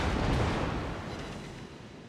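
Heavy naval guns firing in the World of Warships video game, a single deep booming blast that rolls away and fades over about two seconds.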